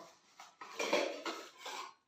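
Metal camping cookware, a compact kettle of about 800 ml, rattles and clinks as it is handled, with light scraping knocks that come close together over a couple of seconds.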